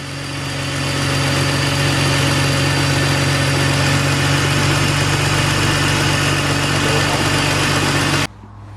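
A BMW E46 engine with a shredded, damaged serpentine belt idles close by, a loud steady hum with a constant drone that runs unchanged for about eight seconds before abruptly dropping away.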